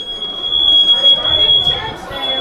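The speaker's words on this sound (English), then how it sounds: "And then there's a fire alarm." A fire alarm sounds steadily and loudly inside a Baptist church during an installation job, a sustained high electronic tone running through the whole stretch with background noise beneath it.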